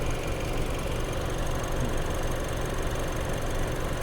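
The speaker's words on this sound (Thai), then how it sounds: "ฟังเสียงเครื่องยนต์ เดินปกตินะไม่มีผิดปกตินะครับ" Toyota Camry 2.5 Sport engine, 2020–2021, idling smoothly under the open hood, a steady even hum with no faults, close and continuous with no talk.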